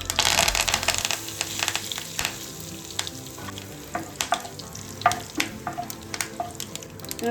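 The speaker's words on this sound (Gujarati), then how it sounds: "વઘાર સરસ આવી જાય એટલે આપણે મીઠા લીમડાના પાન એડ કરશું" Curry leaves dropped into hot tempering oil with mustard seeds, cumin and asafoetida, a close crackling sizzle full of sharp pops and spits, with light stirring and no talk.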